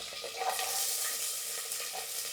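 Onion sizzles in hot oil with curry leaves in a pan, a close, moderately loud crackle with soft stirring scrapes over a couple of seconds.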